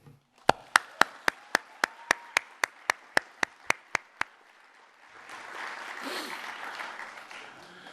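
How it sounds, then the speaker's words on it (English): Claps ring out at a heritage celebration for performers, starting as a run of about fifteen sharp, evenly spaced, loud hand claps that stop briefly, then swell into softer, broader applause from a crowd. "And a round of applause to our performers today."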